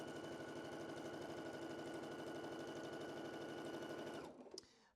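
A sewing machine pieces a quilt top with a scant quarter-inch seam, running in a steady, continuous whir of rapid needle strokes for about four seconds before slowing and stopping with a final clunk.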